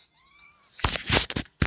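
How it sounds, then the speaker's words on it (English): A pet cat lets out a drawn-out, wavering meow, then louder, harsher yowling cries close by, ending in a short final call. The cries are loud, with no talking over them. "Sorry about my annoying cat. She has to go outside and scream."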